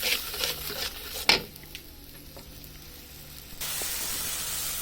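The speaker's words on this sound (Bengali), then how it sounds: "ভালোভাবে এটাকে নাড়া করে দিব।" Red chilli and turmeric powder are stirred into a pan of fish curry with potatoes, a spoon scraping and clattering briefly before quieter shuffling and a soft steady sizzle.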